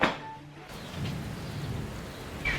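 Steady rain hisses beneath a low, rolling thunder rumble, heard alone at moderate volume, with a brief brighter burst near the start.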